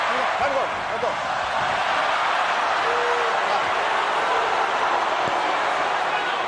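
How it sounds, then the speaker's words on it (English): Dense boxing arena crowd noise fills the space throughout, a steady roar of booing and cheering at a Manny Pacquiao versus Brandon Rios fight, loud and continuous with faint speech beneath. "Crowd boos anything that Rios does. And cheers everything that Manny does."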